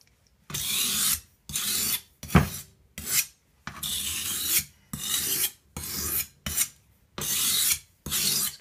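Knife blade stroked on a medium grit oiled sharpening stone in about ten steady, evenly spaced rasping passes, each roughly half a second long, close and clear with no talk.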